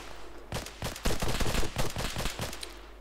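Rapid gunfire rattles out in the military shooter ARMA 3, a close, loud series of sharp bursts in quick irregular clusters over a low background hum.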